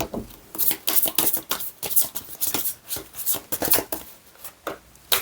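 Tarot cards shuffled by hand in quick rapid bursts, crisp riffling flutters repeating through the whole stretch, close and fairly loud.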